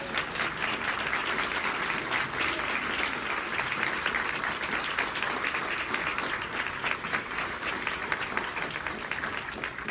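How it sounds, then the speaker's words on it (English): A banquet crowd at the Best of Jackson awards gives winners a sustained round of applause, dense overlapping clapping that stays loud and even throughout, with faint voices mixed in. "Let's give them one final round of applause."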